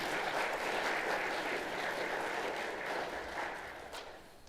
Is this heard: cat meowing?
no